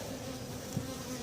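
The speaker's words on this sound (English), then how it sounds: "The bees are unhappy." Bees buzzing in a dense, steady drone close by at hives being fitted with new top boxes, a continuous hum with no voices.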